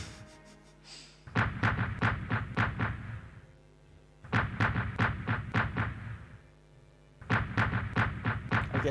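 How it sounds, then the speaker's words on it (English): Repeated artillery barrage in the World War One strategy game Strategic Command WW1, heard as several rapid volleys of sharp booming shots in bursts, each cluster of four to six reports followed by a short pause, loud and with no speech. "this barrage will go on for some time"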